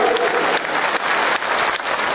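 A crowd claps at a ceremony in Raipur where a new Apex Bank chairman takes office. The applause is loud, dense and close, filling the whole moment without a break.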